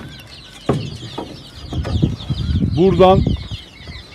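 Porcelain Leghorn chickens cluck and call in a coop, with short, choppy clucks and a louder squawking burst near the end, close by and partly under a man's speech.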